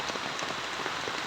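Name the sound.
rain falling by a stream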